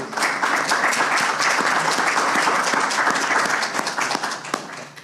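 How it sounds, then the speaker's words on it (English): Town hall audience applauds sheriff's department staff, a dense, steady wash of many hands clapping close by for about five seconds before easing off slightly at the end. "give them a round of applause"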